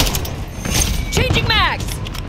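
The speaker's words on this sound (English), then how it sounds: "Changing mags." A gun magazine being swapped in Call of Duty Modern Warfare 3 multiplayer, with quick metallic clicks and a ratcheting slide over steady battle background noise.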